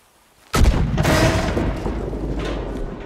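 A lit-fuse dynamite blast in Red Dead Redemption 2 erupts suddenly from near-silence as one heavy, loud boom, followed by a long rumbling roar that slowly fades.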